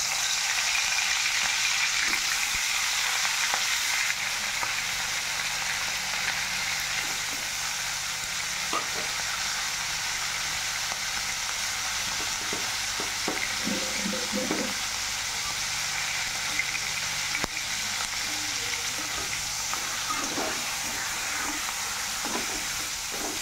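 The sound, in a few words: fish heads frying in oil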